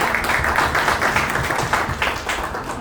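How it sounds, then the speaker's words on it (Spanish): Steady applause from a crypto conference crowd, dense and continuous clapping for the whole stretch without a break. "un otro aplauso para Borja"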